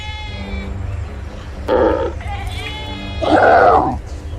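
Sheep bleat twice in a Bible story scene, two loud, wavering cries close by, with a softer animal grunt between them over a low, steady background hum.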